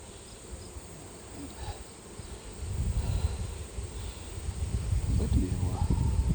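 Honey bees hum around an open, thriving hive packed with honey and brood, a continuous buzzing drone that swells louder midway, with occasional soft handling noise and faint rustling.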